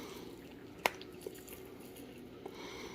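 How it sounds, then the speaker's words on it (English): A single small plop of hot toffee dropped into water, followed by a couple of faint ticks in a quiet room. "Drop it straight into the water."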